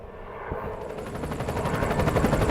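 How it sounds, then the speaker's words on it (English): A helicopter passing overhead, its rotor thump swelling steadily louder and closer over a couple of seconds, a rhythmic chopping drone heard alone without talk. "Quick, helicopter."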